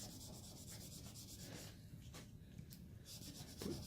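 Sandpaper rubs back and forth over a hand-carved wooden bell-ringing Santa figure, giving soft, steady scratchy strokes at close range with a slight bump near the end and no voices.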